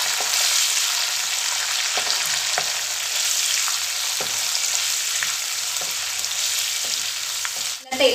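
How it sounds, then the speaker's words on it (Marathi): Curry leaves and green chillies fry in hot oil with a loud, continuous hiss and crackle up close, broken by occasional stirring knocks and a short clatter at the very end. "तेलामध्ये आपला कढीपत्ता व मिरची छान अशी तळली गेली पाहिजे."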